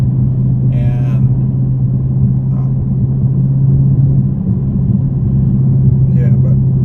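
A Dodge Charger Scat Pack on a curvy road fills the cabin with a steady, low engine and road rumble while a person talks over it.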